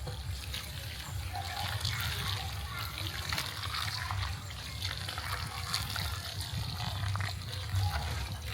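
Hot water is poured while steaming vegetables, giving a continuous splashing, trickling gush that runs steadily at moderate, close volume for several seconds, with a voice faintly under it.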